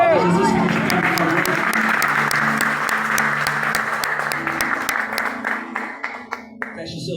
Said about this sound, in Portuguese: aplauda Jesus, fique de pé